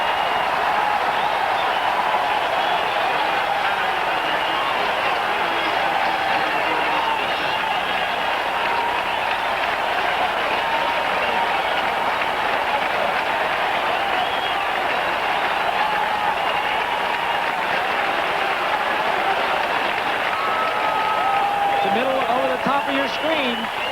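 Stadium crowd at a 1984 Dolphins at Patriots NFL game roaring continuously after a touchdown, a dense, sustained wash of cheering that stays loud for the whole stretch, with a commentator talking over it.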